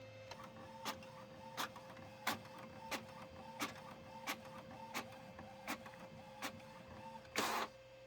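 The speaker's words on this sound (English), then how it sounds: "now it's going to go to my printer and print" A home printer feeding and printing paper, a quiet steady mechanical hum punctuated by regular sharp clicks about every two-thirds of a second, ending with a louder brief whir.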